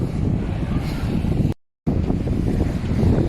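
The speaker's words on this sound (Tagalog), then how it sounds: "Ang lakas ng alon." Rough, wind-buffeted rush of water and strong lake waves slapping around a moving boat on Laguna de Bay, loud and continuous, briefly cutting out midway.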